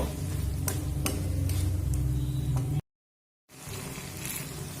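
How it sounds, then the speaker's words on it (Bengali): Fried potatoes stirred with chicken in a pan over a medium flame give a steady sizzle with occasional scraping stir strokes, broken by a brief silent cut before the sizzling resumes. "আলুটা অ্যাড করে দেবো দিয়ে আবারও দু থেকে তিন মিনিট মিডিয়াম ফ্লেম করে কষিয়ে নেব"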